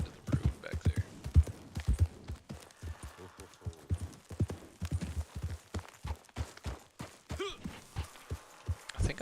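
Horse hooves clip-clop steadily along a road in the video game Ghost of 1898, a close, rhythmic stream of beats with an occasional snort, and no talk over them.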